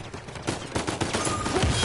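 Rapid gunfire from a firefight in the video game Uncharted 4, with dense overlapping bursts of shots throughout, loud and close.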